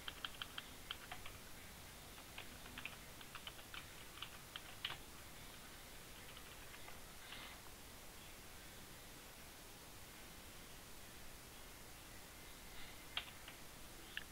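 Someone types on a computer keyboard, giving faint, irregular clicks and short bursts of keystrokes over a low steady hiss.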